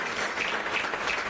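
A brief burst of dense applause from a gathered audience at a live public event, even and sustained across the whole moment.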